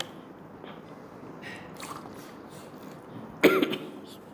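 A single short cough, close and fairly sharp, breaks a quiet room background.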